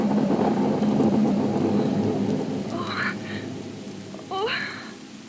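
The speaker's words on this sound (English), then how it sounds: "It was only thunder." Thunder rumbles low and heavy beneath steady rain in a radio drama storm scene, with a couple of short tonal effects rising near the end.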